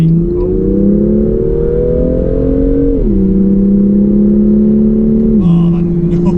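A BMW M2 engine drones loud and close, its pitch rising steadily and then dropping in two distinct steps as it shifts.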